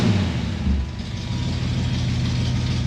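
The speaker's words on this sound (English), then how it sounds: "That new carburetor sounds pretty good." A Ford Mustang engine fitted with a new carburetor runs at a steady idle, a continuous low rumble close by with no talking.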